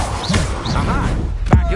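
An Incendio spell goes off in a game-world duel, a short burst with a heavy thump near the end, heard among brief voice sounds.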